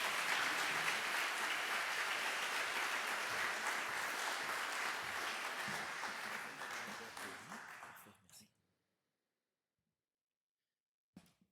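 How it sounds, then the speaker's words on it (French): Sustained audience applause fills a hall at the opening ceremony of the Assemblée parlementaire de la Francophonie bureau meeting in French Polynesia, dense and steady for about eight seconds before cutting off abruptly, followed by silence and a brief faint thump. "sous vos applaudissements"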